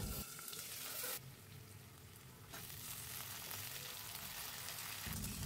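Spices fry in hot oil with a dense, steady sizzle and spatter, loud and close, rising and dipping briefly as the pan is handled, with no talk.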